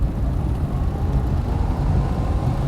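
Air conditioning blows inside a 1965 Ford Mustang Fastback with a C4 automatic transmission while driving, a steady low rushing roar mixed with engine and road noise, even and close throughout.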